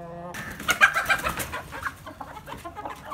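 Aseel chickens inside a cage cluck and call in a fluttering cluster, with a short sharp squawk near the start followed by softer scattered clucks that are close and moderately loud.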